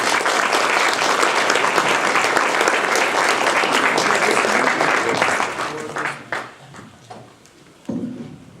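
A church audience applauding to welcome a Unitarian Universalist reverend as speaker, dense sustained clapping that fills the room for several seconds, then thins out into a few scattered claps and fades.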